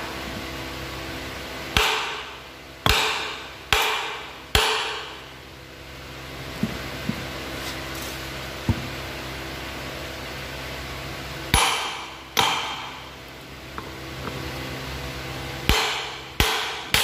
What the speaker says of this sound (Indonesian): Ini baut ini yang kita pukul.